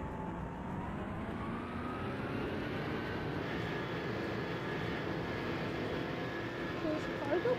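Cargo plane taking off in the video game Airplane Tycoon, its engine drone holding steady and moderately loud, with a faint rise near the end.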